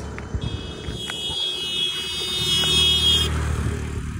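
An engine hums steadily as a scooter passes close by, with a high, thin whine building and then dropping away, under a low traffic rumble.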